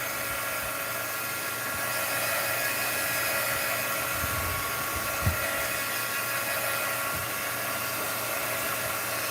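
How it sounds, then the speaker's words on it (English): A heat gun blows hot air over wet watercolor paint, a steady loud broadband whoosh and motor hum running continuously and close, with a faint tap partway through and no talk. "let's hit it with the heat gun"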